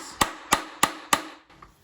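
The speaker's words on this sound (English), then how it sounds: "do my center punch" A hammer strikes a steel center punch set on reversed angle iron in a home workshop, four sharp metallic blows at an even beat, close and loud, with the last ring fading into quiet.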